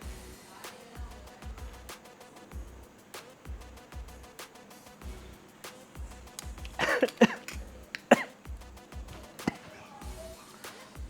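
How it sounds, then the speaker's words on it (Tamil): A few harsh, close coughs burst out midway after tasting hot rasam, over a quiet background with faint, regular low thumps. "சூப்பு சாப்பிட்டா நமக்கு இருமல் வரும் விக்கல் வரும்"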